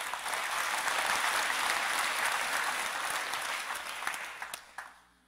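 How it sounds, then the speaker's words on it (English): A lecture audience gives a round of applause, dense, steady clapping that thins out toward the end into a few last scattered claps before fading. "Let's give them a quick round of applause"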